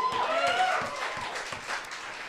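A small live audience at a comedy set claps and cheers over a few seconds, moderately loud, with voices mixed in and steady rhythmic thumps underneath.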